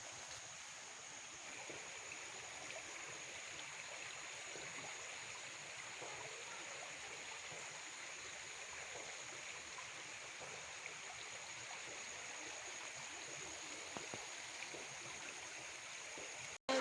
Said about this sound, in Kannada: ಕೆರೆಗಳೆಲ್ಲ ತುಂಬಿ ಹರಿಯುತ್ತೆ